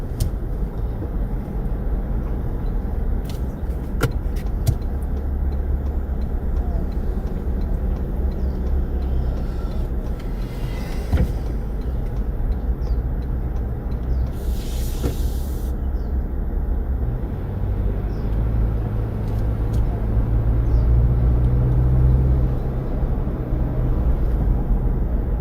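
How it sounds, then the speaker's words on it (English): Low, steady engine rumble of a truck idling or moving outside a house, loud and continuous throughout, with a deeper drone building near the end and no talk. "Oh, look, there's a truck here at this house."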